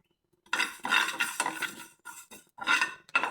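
Niger seeds being dry-roasted in a pan, no oil, with bursts of rattling and scraping as a utensil stirs and shuffles them, in several bouts separated by brief pauses and ending abruptly.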